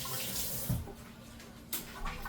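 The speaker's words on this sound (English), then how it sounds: "I'm just gonna rinse it out real quick" A metal fork is rinsed under a running kitchen tap, giving a steady faint stream of water with a few soft splashes and clinks.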